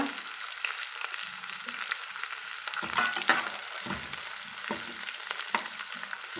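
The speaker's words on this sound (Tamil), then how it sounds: "ஒரு ரெண்டு நிமிஷம் இதை நல்லா வதக்கலாங்க" Rava kichadi with green peas and curry leaves is sautéed in a pan, giving a soft sizzle broken by scraping stirs and occasional clinks of the spoon, close and fairly quiet.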